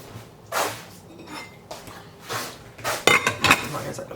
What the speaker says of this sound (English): And put the lid back on,